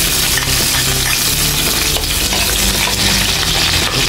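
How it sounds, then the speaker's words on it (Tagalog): Garlic sautéing in a pan for kare-kare made with beef skin, giving a steady, dense sizzle with stirring and light metallic scraping throughout, loud and close, with no talking. "gisa tayo ng bawang"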